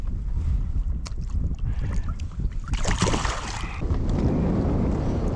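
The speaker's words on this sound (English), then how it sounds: "Holy crap, man, this wind is relentless right now." Strong, relentless gusty wind buffets the microphone on a lake while fishing for lake trout from a boat, a continuous loud roar with surging gusts and faint water movement, no talking.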